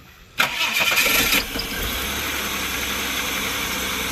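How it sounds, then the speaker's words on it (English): A car engine started with a key on a rainy day trip: a short whirring crank lasting about a second, catching into a loud rough rev, then settling into a steady idle. "just turn the key and let it do its own thing."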